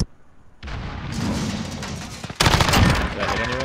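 Rapid gunfire from a Call of Duty Modern Warfare Search and Destroy match, dense bursts of shots and booms that swell louder partway through, with players' voices chattering underneath.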